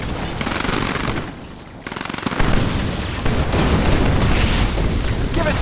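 Sustained gunfire and explosive booms from the real-time strategy game Command and Conquer 3: Tiberium Wars, loud and dense throughout, with a brief lull before dense battle noise resumes.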